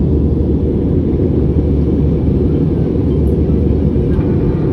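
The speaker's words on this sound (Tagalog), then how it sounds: "Nasa taas na tayo, diretso na yung takbo ng eroplano. Patag na." Cabin noise of an airliner in level flight, a loud, steady, low engine rumble and air roar filling the whole stretch with no voices.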